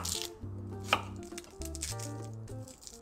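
A knife roughly chops French shallots on a cutting board, a run of soft, quick cuts heard under steady background music.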